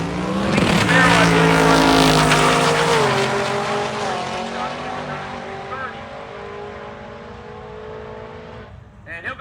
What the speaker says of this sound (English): 2004 model Mustang, the red car. He'll race Stefano Bimmy. Bimmy in the Nicky Camaro on the right side